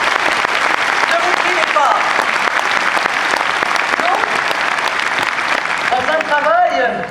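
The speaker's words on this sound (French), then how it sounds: "vous pouvez l'applaudir encore une fois" Loud, sustained crowd applause fills a political party congress of the Front National in Lyon, a dense steady clapping with voices underneath and a brief spoken phrase near the end.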